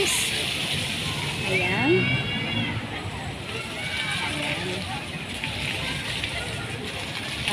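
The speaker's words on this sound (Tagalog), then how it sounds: "Papanoorin lang po natin ang pagbulwak ng tubig ng fountain." A city fountain in Valenzuela gushes with a steady broadband rush of splashing water, moderately close. Someone speaks briefly over it and crowd chatter mixes in.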